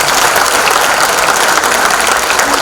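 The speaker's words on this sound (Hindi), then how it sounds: "गुड्डू भाई के लिए जोर से तालियां हो जाए" Applause from an audience after a stage play, a dense, loud and steady burst of many hands clapping together that continues evenly for the whole short stretch.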